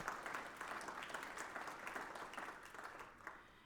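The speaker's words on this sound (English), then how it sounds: "let's please give her another round of applause" Audience applause for a guest speaker at a history lecture, a steady broadband wash of many hands clapping that carries on without a break and tapers slightly near the end.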